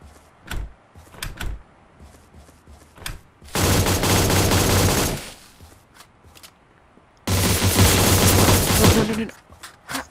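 Two long bursts of AK-47 automatic fire in a video game, each lasting about one and a half seconds, loud and dense, with scattered single clicks and thumps between them.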